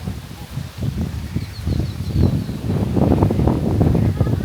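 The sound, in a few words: strong wind blowing outdoors on a farm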